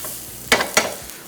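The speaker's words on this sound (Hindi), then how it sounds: "सो गार्लिक जिंजर को पहले फ्राई करें" Garlic and ginger frying in a pan: two brief, close bursts of sizzling and stirring over a low background hiss.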